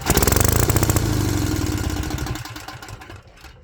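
Onan CCKA engine with a waste spark coil conversion running with rapid rhythmic firing pulses, loud and close, then winding down and fading over a few seconds.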